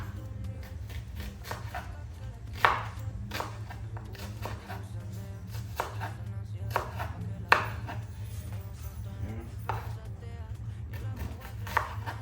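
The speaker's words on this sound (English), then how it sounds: "Steve's cut up the onion now" An onion cut with a knife during late-night Jamaican home cooking, sharp chops landing singly and in short bursts over a low steady hum, with dishes lightly clinking.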